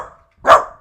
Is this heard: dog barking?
yes